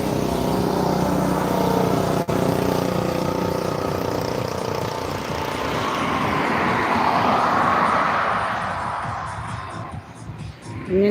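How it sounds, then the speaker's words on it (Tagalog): Road traffic rolls past steadily, a continuous broadband rumble of cars and engines with a swelling pass-by in the middle, moderately loud and close, with a brief voice near the start. "Kaya maingay yung pag may mga dumadaan talaga ng mga sasakyan"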